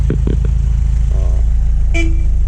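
A short, loud horn blast from a 1953 Austin Healey 100 near the end sounds over its steady idling engine, preceded by a few brief clunks.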